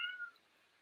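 A pet cat indoors lets out a brief, quiet meow that fades quickly into a soft background hush, with no voices.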